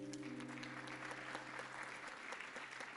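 A church congregation claps together in a faint, even spread of applause at a worship service, steady throughout without cheering.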